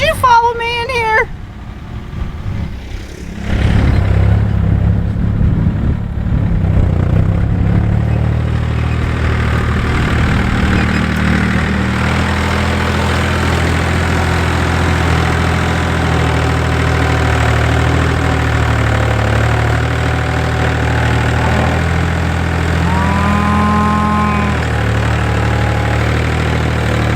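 A tractor engine idles on a farm, a loud, steady low rumble with a knocking undertone that holds after a brief burst of voices at the start.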